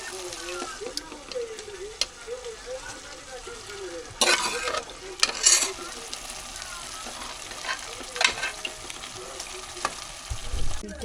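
Mutton curry being stirred in a pan with fat and gravy, a close scraping, stirring swish with a soft sizzle and a few sharp spoon knocks on the pan, occasional voice murmur underneath.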